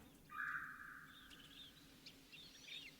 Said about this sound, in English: That sound is typical for the red-bellied woodpecker